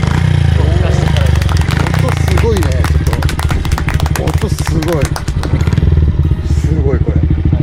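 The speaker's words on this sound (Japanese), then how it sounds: "エンジンがかかるんで" Honda Monkey 50 motorcycle engine starting and running close by, a loud, rapid, chattering single-cylinder putter with uneven revs, with people talking over it throughout.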